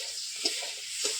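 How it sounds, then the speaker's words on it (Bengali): Fish and potato curry simmers in a pan over a village cooking fire, giving a steady soft sizzle and hiss with a few small bubbling pops. "আজকে কিন্তু রান্না হচ্ছে আমাদের মাছ আর আলুর ঝোল"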